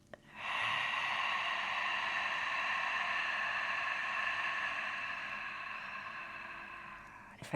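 Slow, steady breath drawn in through the nose and let out through the mouth, a long continuous airy hiss lasting several seconds, close and fairly loud, with no talking.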